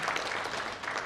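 Brief burst of dense applause from an audience at a golf tourism session in India, cheering the women on the panel; steady and fairly loud throughout its short length.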